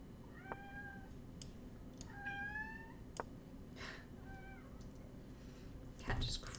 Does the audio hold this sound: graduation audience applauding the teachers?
no